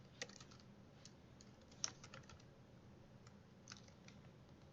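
Quiet typing on a computer keyboard, a steady patter of soft key clicks with a few sharper taps, heard alone with no talking.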